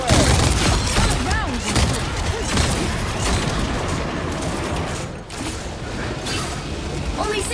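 Bombs dropped by Iron Man in Marvel Rivals burst in a rattling flurry of booms and crackles, loud at first and then settling into a rumbling, mechanical clatter.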